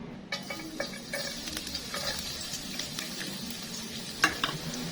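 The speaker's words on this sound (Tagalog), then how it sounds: "kapag mainit na po yung ating mantika, unang ilalagay po natin yung ating bawang." Garlic hits hot cooking oil in a pan for ginisang Baguio beans with shrimp, giving a steady close sizzle broken by occasional scraping stirs and a sharp clink, with no one speaking.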